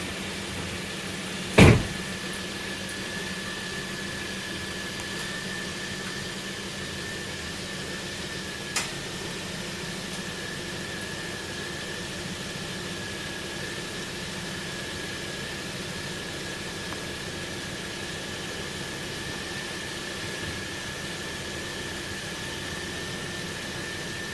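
A 2009 Volvo C70 T5 engine with an Elevate air intake runs at a steady idle, a constant low hum with a faint whine. A brief clunk sounds near the start and a softer click follows later.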